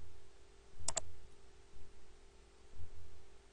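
A computer mouse clicking while working in Revit software: two quick, close, sharp clicks in rapid succession against a quiet background hum.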